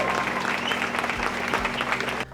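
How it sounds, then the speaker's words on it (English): An audience claps in a round of applause for an elite athlete at a Hyrox fitness race event, dense and steady throughout before cutting off abruptly near the end. "Can we all give him a round of applause?"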